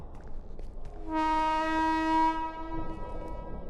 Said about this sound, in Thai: ๆเสียงรถไฟ